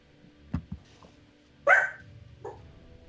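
A real dog barks during a tabletop game session: a couple of soft low woofs, then one louder sharp bark followed by a fainter yip, heard close in an otherwise quiet room.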